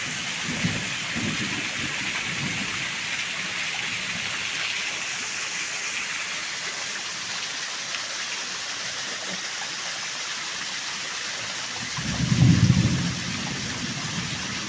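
Heavy rain pours steadily outside a rock cave during a thunderstorm, with a deep, distant thunder rumble rolling in near the end.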